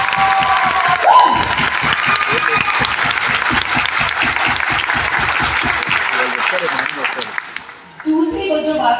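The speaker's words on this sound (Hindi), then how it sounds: "सबसे पहले तालियां मैं जोरदार मोदी के लिए बजाना चाहती" A large crowd at a mega motivational event claps loudly and continuously, with rhythmic in-unison clapping forming a steady beat under general cheering, before a voice briefly comes in at the end.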